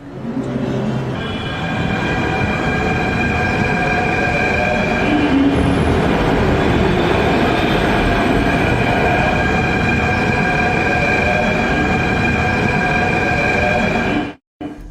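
A Delhi Metro train running through central Delhi near Connaught Place, a steady loud rumble with a high whine for the whole stretch before cutting off abruptly at the end.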